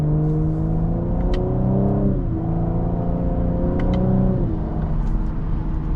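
A 2023 Cadillac CT5-V accelerates hard, its loud engine drone climbing steadily in pitch with a couple of brief dips at gear changes, heard from inside the cabin with a turbo whine layered over the roar.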